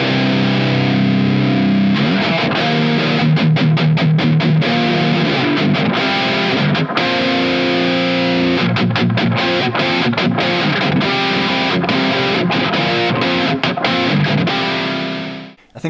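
Distorted electric guitar run through a Digitech Drop pedal, shifting from drop D down to drop G, heavy low chugging riffs with sharp stops and restarts, loud and continuous with no talking.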